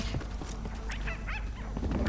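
Dog barking in the video game Fortnite, a few short yips and barks in the middle of the clip over a dense, steady game background, with no talk.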